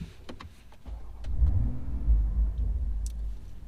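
2020-2023 Toyota Supra fitted with a Frequency Intelligence exhaust cruising quietly, a soft low engine rumble swelling briefly then settling, with faint clicks and cabin noises and no voices.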